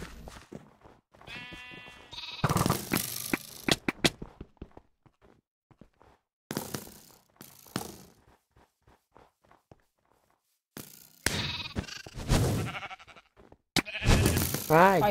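A sheep in a video game bleats in a few quavering cries amid footsteps and loud game clatter, with bursts of noisy action between quieter stretches.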